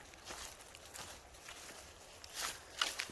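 Soft footsteps crunch along a forest path at an unhurried pace, a few louder rustling steps near the end, quiet outdoor background.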